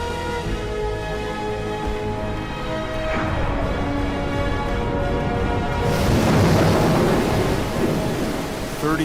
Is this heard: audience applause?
no